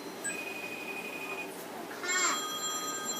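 A smartphone rings with an incoming call, its electronic tone sounding across the room from a short distance, while a voice talks over it.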